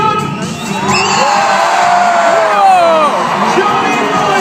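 A stadium crowd at a monster truck show cheers and whoops loudly, a dense sustained roar with rising shouts and whistles throughout.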